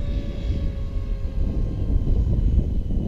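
A professionally configured remote-control helicopter's motor drones steadily up close, a loud, continuous low whir with rotor buzz and no pauses.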